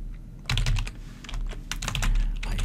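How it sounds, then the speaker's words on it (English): Rapid clattering keystrokes on a computer keyboard come in quick bursts with short pauses, close and fairly loud. "Typing is hard."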